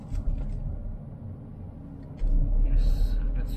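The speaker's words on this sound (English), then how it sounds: "Let's stop the vehicle." Hyundai Venue manual diesel car coming to a stop, a steady low engine rumble inside the cabin that deepens and grows heavier toward the end, with no talking.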